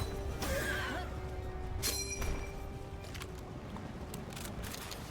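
A horse creature neighs and whinnies in the video game Palworld, with a burst of crackling impact noise midway over a steady background game ambience.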